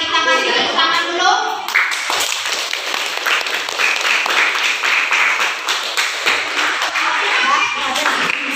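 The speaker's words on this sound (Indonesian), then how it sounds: "Kita kasih tepuk tangan dulu" A class of students claps hands together in a classroom after a group presentation, a dense, sustained patter of many hands filling the room, with children's voices mixed in.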